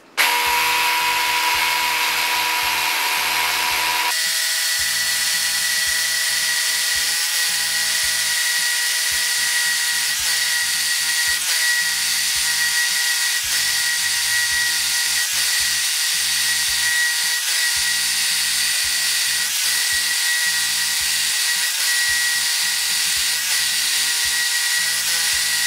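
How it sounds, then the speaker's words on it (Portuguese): A Worx WX390.1 20V SDS Plus cordless rotary hammer with a 16mm bit drills into hard concrete, a loud, continuous hammering drone that starts abruptly and runs steadily for the whole stretch at close range. "Vou perfurar concreto duro e usinado com broca"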